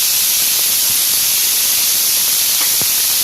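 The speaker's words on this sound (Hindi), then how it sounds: "बस थोड़ी देर इसको फ्राई करेंगे।" Peas with amchur powder, green chilli, ginger, salt and coriander frying in a kadai give a steady, close, bright hiss that stays even throughout, with a few faint crackles and no voices.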